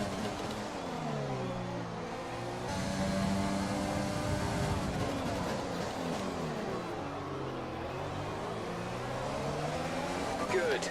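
Engine of an F1 race car in the F1 2020 video game, droning and rising in pitch while overtaking, a steady loud whine that sweeps up and down with gear changes, with a race engineer's voice talking over it.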